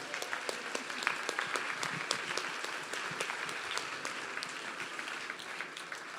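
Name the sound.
applause for gala committee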